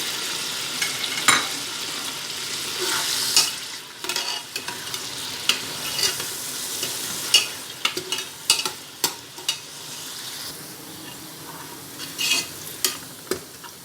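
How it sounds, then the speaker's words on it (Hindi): Onions sizzle in hot oil, frying until golden, while a utensil scrapes and stirs the pan in irregular clicks and knocks, close up, no talking. "ऑयल गरम करके इसमें प्याज डाल दें और इन्हें गोल्डन होने के लिए रख दें।"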